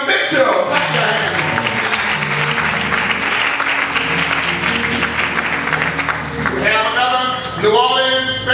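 A church congregation claps for singers, a dense, loud, steady wash of applause that holds for several seconds before trailing off as voices rise at the end.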